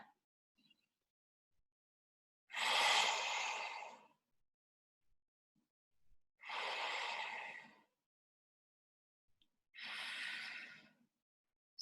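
Three long, deep exhalations during an at-home HIIT abs and lower-body workout, each a breathy rush of air lasting over a second, spaced evenly apart with quiet pauses between.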